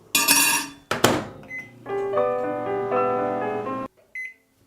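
A microwave oven with a metal fork inside runs with a steady electrical hum, bracketed by sharp thunks of the door and a short beep near the end.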